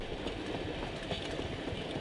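Layered train sound effect for a video game in development, several instances playing together as a dense, continuous rumble and clatter of rail cars with rolling wheel noise.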